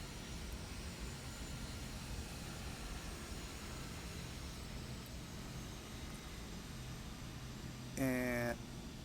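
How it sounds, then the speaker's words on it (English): Turboprop engine of an Aerobask Epic E1000 in the X-Plane 11 flight simulator, a steady broadband drone holding at an even level throughout, with a brief tonal blip near the end. "I'm hoping you guys can hear the engines okay."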